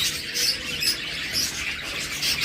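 Pet birds kept for breeding chirp together in a continuous high, bright twittering chorus, fairly loud and close, with no talking.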